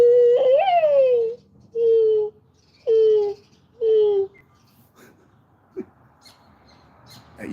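A man imitates a dove call with his voice, giving four hooting coos in an even rhythm, close and fairly loud, followed by a quiet pause with faint clicks.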